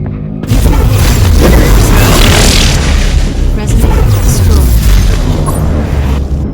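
In the Ingress Prime video game, a resonator is destroyed with a loud, booming explosion that bursts in suddenly and rumbles on for several seconds.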